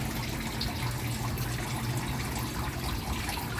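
A water pump running on a concrete fishpond on a third floor: water runs and gurgles continuously with a low steady hum beneath, a constant, fairly loud wash of flowing liquid.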